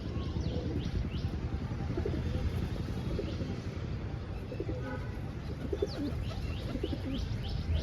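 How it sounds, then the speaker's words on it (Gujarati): Pigeons coo softly in low, rolling calls amid a constant rumbling background, with occasional chirps from other birds. "આ બધા કબૂતર છે"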